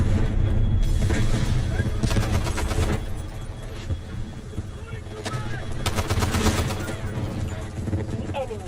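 Bullets spraying during a battle in Delta Force, dense bursts of rapid gunfire and booming blasts over a loud rumbling backdrop, near and intense.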